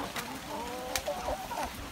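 A chicken, a small black hen sitting on eggs in a backyard coop, gives a few soft clucks and murmurs over low background noise, close by, with a louder note near the middle.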